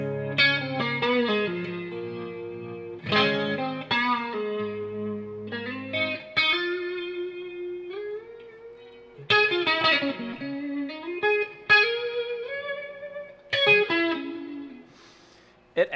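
An electric guitar played through a Dawner Prince Pulse effect pedal, clean picked chords and single notes ringing out with a shimmering, airy modulation and reverb tail, played alone without talking.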